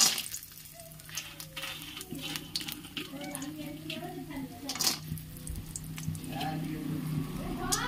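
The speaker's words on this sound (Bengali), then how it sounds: "এবার আমি ওই যে বড়িগুলো আছে ওগুলো একটু ভালোভাবে লাল লাল করে ভেজে নেব" Lentil dumplings frying in a little oil in a wok, giving a soft sizzle with occasional clinks and scrapes of a utensil against the pan, faint and close, while a voice talks intermittently.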